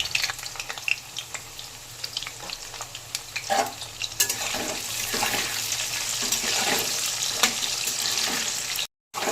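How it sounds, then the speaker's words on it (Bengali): Salted potatoes frying in mustard oil in a wok, a close, crackling sizzle broken by repeated scraping and stirring strokes, growing steadier and louder before a brief dropout near the end. "আলুগুলো ভাজা হয়ে গেছে এবার এগুলোকে তুলে নেব"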